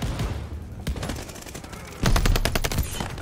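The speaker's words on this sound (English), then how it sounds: "We're getting shot out from somewhere." Rapid automatic gunfire in the Call of Duty Vanguard video game, H4 Blixen in play, with dense bursts of shots in the first second and a louder, closer volley from about two seconds on.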